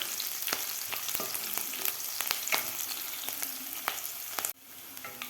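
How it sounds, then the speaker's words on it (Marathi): Chopped garlic, green chilli and ginger frying in hot oil for a khichdi of whole green moong, a steady loud sizzle with scattered stirring clicks that drops abruptly near the end. "आता एक मिनिटभर व्यवस्थित आपल्याला ते फ्राय करून घ्यायचं आहे लसूण मिरची अद्रक"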